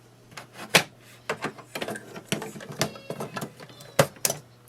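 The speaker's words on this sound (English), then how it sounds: "You have to slide it in and it locks itself." A Brother MFC-J995DW ink cartridge slides into its printer slot with a series of sharp plastic clicks and knocks, ending in a locking snap, close up over a low steady hum.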